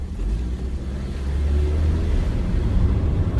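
A car rolls by on the street with a low, rumbling engine that swells slightly as it draws nearer, steady and moderately loud with no talking.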